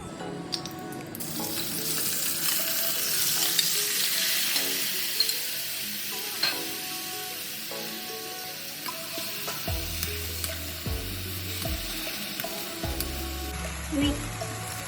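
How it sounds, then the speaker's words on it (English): Marinated mutton hitting hot oil in a wok for an Afghani karahi, with a loud, continuous close sizzle that settles slightly, followed by clattering stirring and scraping knocks near the end. "In a wok, we add 1/4 cup of oil. Add marinated meat."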